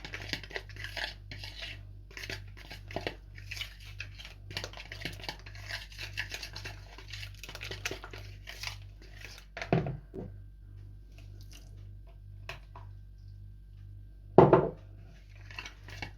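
A spoon scrapes and stirs a wholewheat flour mixture rapidly in a bowl for several seconds, followed by a pause, a soft clunk, and a sharp knock near the end.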